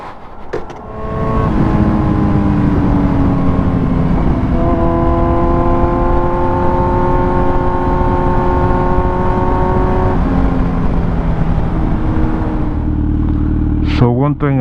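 Kawasaki Z900 motorcycle riding on Michelin Road 6 tyres, a loud steady engine drone with rising and shifting tones through the gears, wind noise throughout, close and continuous.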